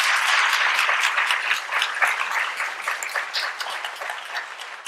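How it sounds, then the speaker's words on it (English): An audience at a community forum and 50-plus hiring event applauds for a county executive, a dense, lively wash of clapping from many hands that starts loud and slowly thins over about five seconds. "Won't we have another round of applause for County Executive Dr."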